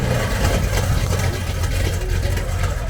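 Mid-engine stunt truck idling at a car show, a steady low rumbling drone close by with a loping, uneven pulse.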